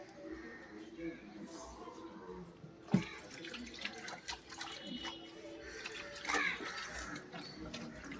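Running water splashes and trickles while a fish tank is rinsed during cleaning, a moderate, uneven wash with a sharp knock and a few splashy bursts.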